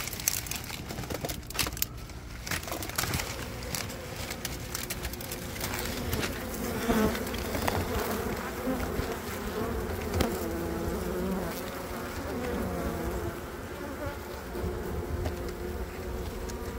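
A dense, steady buzzing of many honeybees in a trash can fills the whole stretch, close and continuous, with occasional crinkling and handling noises on top.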